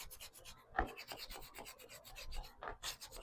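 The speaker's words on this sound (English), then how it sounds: "see if I can sand a little bit" Hand sanding on a thrifted painted wood piece, gently distressing it for an aged, chippy finish: soft, close rasping strokes in an uneven back-and-forth rhythm, faint and alone.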